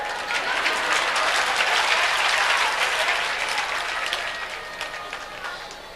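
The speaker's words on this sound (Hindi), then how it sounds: "और तुम ताली बजा रहे हो" An audience at a religious discourse claps together in sustained, dense applause. It starts loud and full, then gradually fades toward the end.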